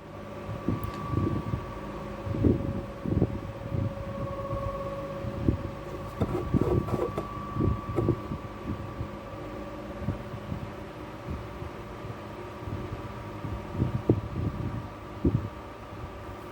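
A handheld plastic welder melts plastic onto itself while sealing a universal lift attachment for a bath bomb press, giving a steady low hum and hiss with uneven crackling bursts throughout, close and moderately loud.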